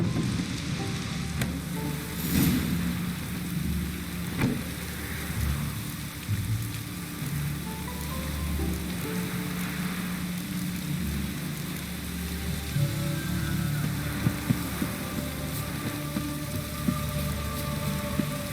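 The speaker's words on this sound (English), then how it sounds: "Looks like rain." Steady rain hiss falling throughout a scene in The Witcher 3 video game, a dense continuous patter with low rumbling underneath and a few faint thuds, no talking.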